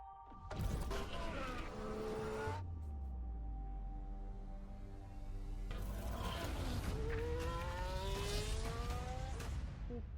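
A racing video game trailer carries car engines that rev and shift through gears, loud and continuous. Music plays underneath, with a second burst of acceleration midway and no talking.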